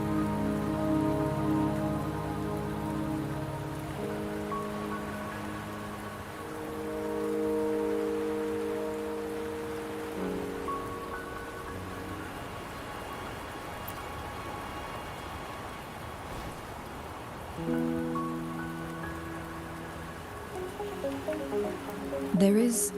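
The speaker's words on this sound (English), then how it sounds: "Don't worry, the rain won't last much longer." Rain falls steadily in a video game scene, a soft constant patter on surfaces heard under sustained music tones that swell and fade throughout.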